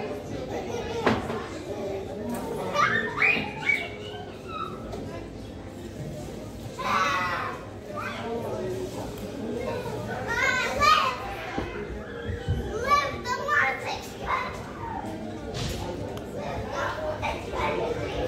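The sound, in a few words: children playing and talking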